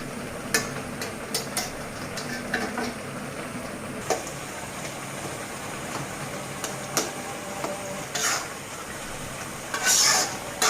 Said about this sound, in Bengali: এখন আমি একটু নেড়ে টেড়ে ফুটায় ফেলবো।